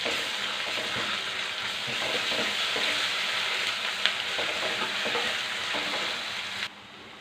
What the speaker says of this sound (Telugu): మనం ఇట్లాగే నూనెలోనే చిన్న చెగ మీద ఈ అన్ని ముక్కలన్నీ ఏగేటట్టుగా వేపుకుంటామేనండి